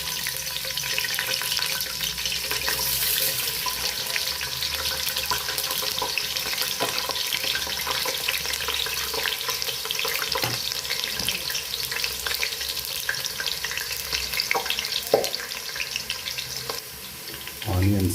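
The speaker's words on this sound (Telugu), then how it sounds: "ఆయిల్ పోసుకున్న తర్వాత ఆనియన్స్ వేసుకోవాలి." Onions frying in hot oil in a pan for chicken dum biryani, a steady dense sizzle running throughout with occasional stirring clinks, close and loud, no talking.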